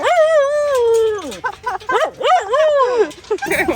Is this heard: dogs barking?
yes